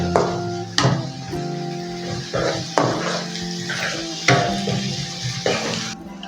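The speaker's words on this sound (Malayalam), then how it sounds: "നമുക്കിതും കൂടെ നല്ലപോലെ വഴറ്റാം." Half a capsicum sautés in a pan for North Indian pav bhaji, sizzling steadily while a spoon clanks against the pan every second or so during stirring.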